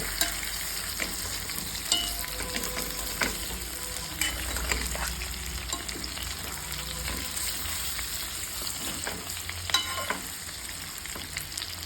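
Eggplant fries in oil in a pan, a constant close sizzle punctuated by frequent spatula scrapes and stirring clicks throughout.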